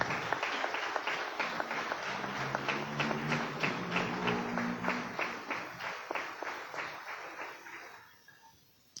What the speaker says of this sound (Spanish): Dale un fuerte aplauso al Señor con la iglesia que está acá presente.